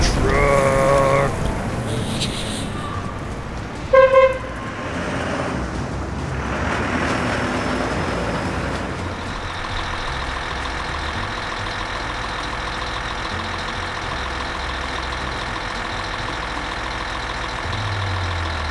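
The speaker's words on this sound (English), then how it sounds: "Uh-oh. The snowplow truck." A snowplow truck in a children's cartoon gives a short loud horn blast, then its engine settles into a steady mechanical drone that runs on for several seconds, with no talking over it.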